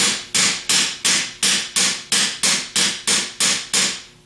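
Sharp hammer-like taps on the rear plate of a Denso alternator, struck through the pulley set on three studs, land about ten times in a steady rhythm, each with a bright metallic attack and brief ring, close and loud.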